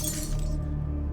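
A glass healing-potion bottle knocked off a shelf shatters in one bright, close crash, its high splintering burst fading quickly over a low steady hum.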